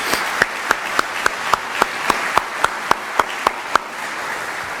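Audience at a university hall rededication ceremony applauds, with one nearby pair of hands clapping in a steady, evenly spaced beat over softer clapping behind it.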